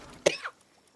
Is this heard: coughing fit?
yes